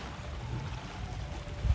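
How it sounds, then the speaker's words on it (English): Low rumble of boats on open water near Takapuna Beach, New Zealand, with wind buffeting the microphone and waves from their wake washing nearby. "We've got a wake from the boats."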